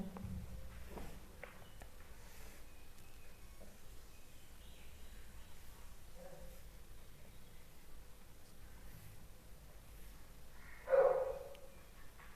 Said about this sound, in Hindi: डॉग भौंक रहा है, यही डिस्टर्ब करता है हमारा वीडियो बनाने में